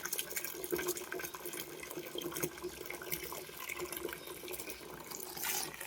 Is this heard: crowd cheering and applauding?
no